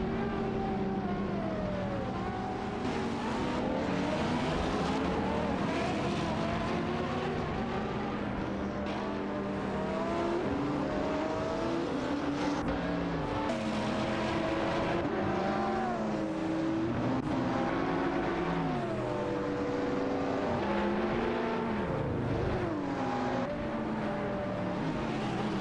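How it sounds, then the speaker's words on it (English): Simulated race cars, including a Noble M500 and an SSC Ultimate Aero TT, roar continuously in a video game race, engines revving and shifting in overlapping layers with no talk. "Amy maneuvers her Noble M500 as R40 in a SSC Ultimate Aero TT, vies for position"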